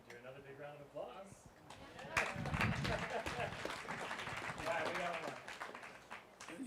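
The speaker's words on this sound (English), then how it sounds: "We can do another big round of applause." Audience applause at an evening talk with local speakers in Aspen: a crowd's clapping breaks out after a couple of seconds and holds as a steady patter, with people talking over it.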